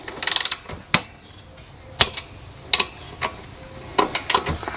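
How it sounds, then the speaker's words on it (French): A torque wrench tightens a bolt on a Solex 3800 moped engine threaded into zamak alloy, giving sharp ratcheting clicks in short irregular bursts, close and crisp, with quiet gaps between them. "ensuite on va fignoler le serrage avec la clé dynamométrique"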